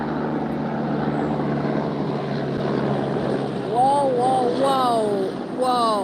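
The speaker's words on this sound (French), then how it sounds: "je l'entends, l'hélico." A helicopter passes overhead during a police operation, a steady low rotor drone running throughout with faint tonal whines, loud and close, while someone talks over it.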